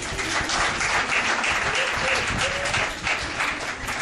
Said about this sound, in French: acclamez au moins le père